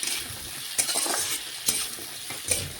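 Amra chutney is stirred and fried in a pan over low heat, a continuous bright sizzle broken by several sharp spatula scrapes and taps, close up.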